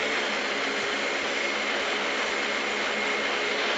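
Steady, loud roar of an airliner's jet engines at full power during the climb right after takeoff, a continuous broadband rush heard from inside the cabin with no breaks.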